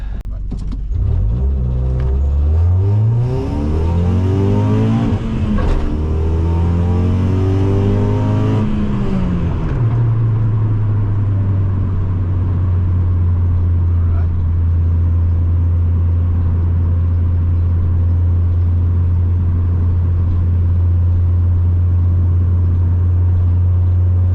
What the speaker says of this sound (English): Successful test drive, no misfires, no overheating. Ran all the way through the rev range with no issues.